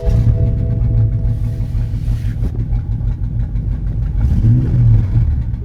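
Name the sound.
BMW M5 engine running rough, misfiring on four cylinders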